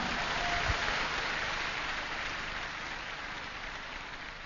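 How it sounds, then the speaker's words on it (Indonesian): Seminar audience in Yogyakarta applauding, a steady, dense wash of many hands clapping together that holds evenly and fades only slightly over several seconds. "Tepuk tangan buat Anda semua."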